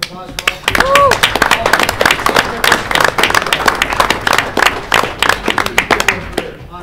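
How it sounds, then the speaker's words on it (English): Loud, close applause from a school board meeting audience honoring athletes, crisp individual claps in a brisk uneven rhythm throughout, with a brief whistle near the start. "how about one last round of applause for all three?"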